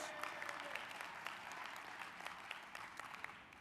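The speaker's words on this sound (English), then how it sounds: "Give her a round of applause." Convention audience at the NAACP 105th Annual Convention breaks into sustained applause, a dense wash of clapping from a large crowd with a few sharper claps standing out, steady and loud throughout with no talking.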